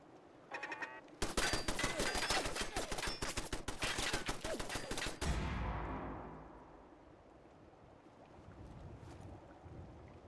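Rapid automatic gunfire aimed at a turret in Fallout 4, a dense, loud burst of shots lasting about four seconds, then a fading rumble and quieter ambient noise.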